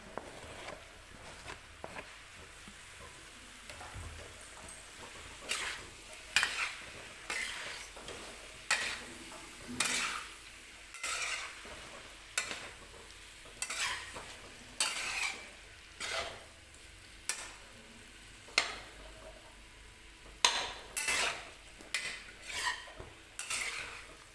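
Potatoes and tomatoes being stirred in a pan with very little oil, a utensil scraping and clinking against the metal in a steady rhythm over a faint sizzle, close and moderately loud with no voices.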